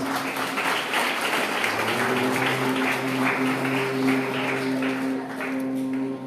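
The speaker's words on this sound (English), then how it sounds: "Please give her a big round of applause." An audience claps steadily for several seconds, a dense patter of many hands, moderately loud, with a faint tonal hum underneath.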